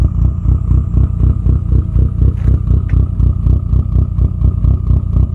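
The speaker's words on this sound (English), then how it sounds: "I love the sound of a cammed engine." A Vauxhall Astra GSI with a Garrett turbo, about 483 bhp, and Piper race cams idles close by with a loud, lumpy, evenly pulsing rhythm.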